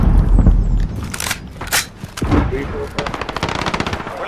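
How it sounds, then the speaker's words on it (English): Automatic gunfire in a Call of Duty multiplayer match: loud, close bursts early on, then a rapid, rattling stream of shots toward the end. "I love getting shot from behind."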